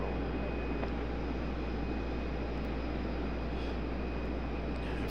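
An airplane on the runway at Raleigh-Durham airport during takeoff, a steady, loud engine roar with a deep low rumble holding constant throughout, no voices.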